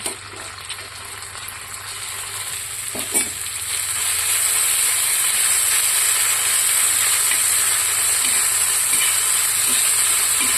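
Crushed green chili thecha sizzles in hot oil on a tawa, a steady loud hiss that swells after a few seconds and holds with faint stirring clicks underneath.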